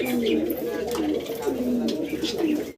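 A pair of American Lakkha pigeons cooing up close, with repeated low, rolling coos in a steady rhythm and faint chirps around them.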